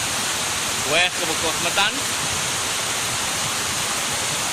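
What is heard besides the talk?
waterfall at Hollat natural bathing pool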